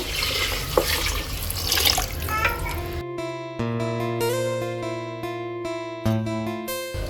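Water splashes and pours into a cooking pot for about three seconds, then stops, followed by sustained tonal sounds like a meowing cat or music.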